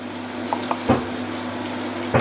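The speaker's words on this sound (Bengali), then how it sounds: "তো এদিকে পেঁয়াজটা ভাজা হচ্ছে" Onion frying in a pan for a prawn curry, a steady sizzle with a low background hum and two louder stir or clatter bursts.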